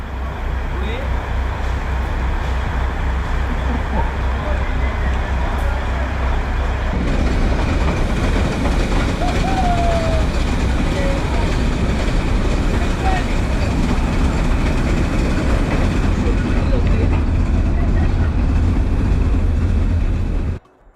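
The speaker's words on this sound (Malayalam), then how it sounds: "നമ്മളിന്നലെ നടന്നു വന്ന അതേ വഴിയിലൂടെയാണ് ട്രെയിൻ തിരിച്ചു പോകുന്നത്" The Matheran hill-station toy train running along its single narrow track, a close, continuous rumble with rhythmic wheel clatter that grows rougher and louder partway through, then cuts off abruptly at the end.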